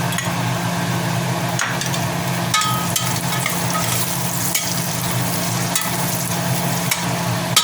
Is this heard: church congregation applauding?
no